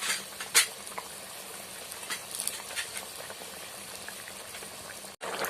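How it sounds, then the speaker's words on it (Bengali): Fish curry with potato and papaya boiling in a pot, a steady close bubbling with soft pops and the odd clink of a utensil, then a brief cut near the end. "দেখুন আমার ঝোলটা ভালোভাবে ফুটে গেছে"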